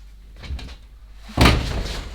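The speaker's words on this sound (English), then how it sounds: "And then we have the world's most resistant door" A stiff door in a holiday apartment on Ibiza is rattled and then forced open with a loud, close thud and scrape, after a few lighter knocks.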